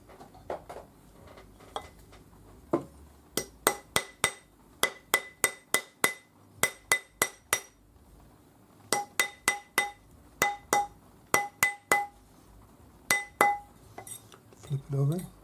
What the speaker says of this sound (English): Round it up on your ring mandrel using your rawhide hammer.